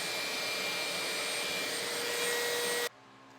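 A Dremel rotary tool grinds away at a foam skull, a loud steady high-pitched whine and hiss running unbroken for almost three seconds before cutting off abruptly.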